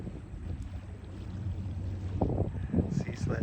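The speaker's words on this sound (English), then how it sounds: "that tugboat is completely separate from the green barge. He's just pushing it" A tugboat pushes a green barge along a river, giving a low, steady engine rumble with water washing and sloshing that grows a bit louder toward the end, while voices murmur faintly over it.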